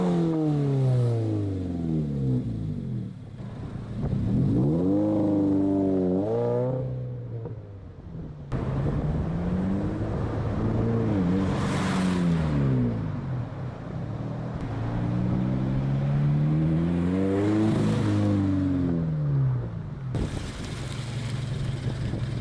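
A Subaru BRZ with a loud new exhaust is revved several times. The engine note climbs and falls in repeated sweeps over a steady idle, close and loud, with some wind noise and no speech.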